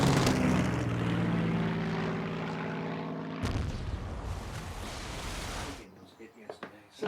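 Piston engines of WWII fighters, Spitfires and Hurricanes against Me-109s, roar loudly and steadily during a dogfight over the coast. The engine drone cuts away abruptly partway through, leaving a fainter, rougher rumble.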